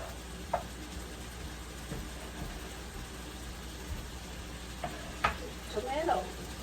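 Corned beef with tomato, onion and garlic stirred in a pan, a faint continuous sizzle with a few soft spoon scrapes and clinks over a low background hum.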